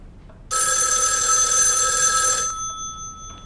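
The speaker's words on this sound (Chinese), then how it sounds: "你们叶局长电话" An office telephone in a Chinese spy drama period scene rings with a bright, continuous electric bell, loud and close, then cuts off and leaves a faint fading tone.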